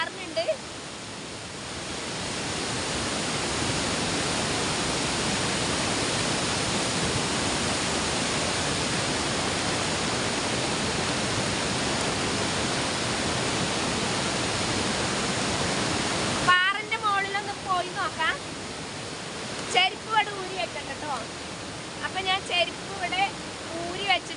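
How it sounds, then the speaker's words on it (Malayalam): A loud, steady roar of a flooded, overflowing river fills most of the clip, then drops away as someone speaks over the quieter flow. "ഇതാണ് നമ്മുടെ പുഴ വെള്ളം ഇങ്ങനെ ഏന്തി ഏന്തി വരികയാണ്"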